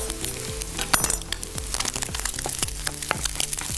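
Finely chopped fresh chili dropped into a hot frying pan, setting off a busy, steady sizzle with crackling pops throughout, close and fairly loud, with no talking.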